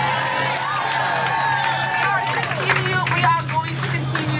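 Crowd in Minnesota welcoming Representative Ilhan Omar home, cheering, whooping and clapping in a loud mix of shouts and babble, with voices calling out through the noise.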